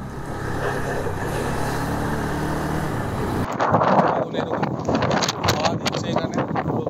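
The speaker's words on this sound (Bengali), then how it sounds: "এখানে হঠাৎ করে একটা সাইক্লোনিক হাওয়া অবস্থা হয়েছে, সাইক্লোন আসার মতো" Strong cyclonic wind buffets a motorbike rider on the road toward Rameshwaram, roaring loudly across the microphone, first as a steady rush and then as harsher, gusting blasts.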